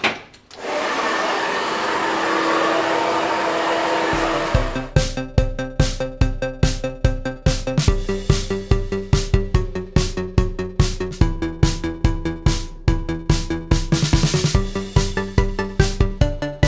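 A hair dryer blow-dries a freshly cut bob, giving a loud, steady, close-up whooshing drone for about four seconds before it gives way to a rhythmic pulsing pattern.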